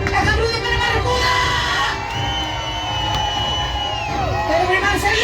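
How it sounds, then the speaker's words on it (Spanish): Crowd on a pirate show boat in Cancun cheering, whooping and shouting loudly for a pirate fighter, children's yells mixed into a continuous roar with rising and falling calls. "Hagan ruido para Barracuda"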